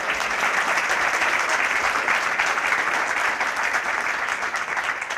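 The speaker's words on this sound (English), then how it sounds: "Would you like to spontaneously applause" A large audience at a university honorary doctorate ceremony applauds in a dense, sustained roar of clapping that stays loud and even throughout, with no voices above it.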